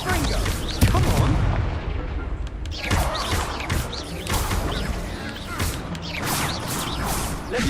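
Confringo spell blasts boom in Hogwarts Legacy, with repeated explosive bursts and crashing impacts amid busy combat noise, while a voice shouts over the action.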